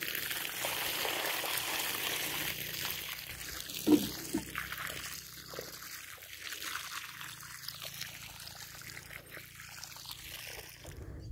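Water poured onto loosened soil around a freshly transplanted bell pepper plant makes a steady, close trickle and splash that lasts throughout, with one brief louder splash partway in.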